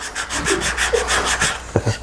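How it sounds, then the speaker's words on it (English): Hand sanding on wood with 150 grit sandpaper: steady back-and-forth rasping strokes, about eight in quick regular rhythm, close and fairly loud, with a couple of soft knocks near the end. "Some people I know don't like the sound of sanding"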